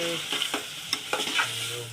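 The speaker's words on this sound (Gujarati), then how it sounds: "મમ્મી કોરા મગ વઘારી નાખે" Dry green moong is tempered in a hot pan, giving a brief close sizzle with a few quick spatula scrapes and light clatters in short bursts, no speech.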